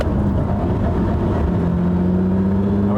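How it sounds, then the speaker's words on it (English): A Lamborghini Countach Quattrovalvole engine pulls steadily from low revs, a loud, continuous mid-pitched drone whose tone climbs gradually over a few seconds, with no voices. "I mean, that's pulling from very low RPM there"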